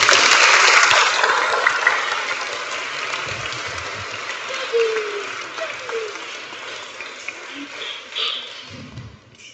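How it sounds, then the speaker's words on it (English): Applause from an audience at a Year 6 school leavers service, a dense burst of clapping that slowly fades over several seconds, with faint voices underneath. "Give a round of applause."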